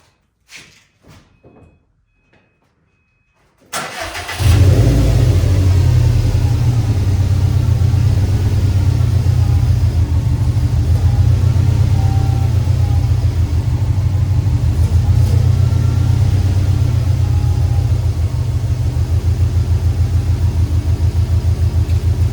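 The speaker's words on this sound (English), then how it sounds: "I'm gonna go turn the car on and we'll see if we fixed it or not." A Subaru engine cranks and catches after a few faint clicks and a door sound, then settles into a loud, steady idle with a deep rumble that runs for the rest of the clip, following a power steering belt replacement.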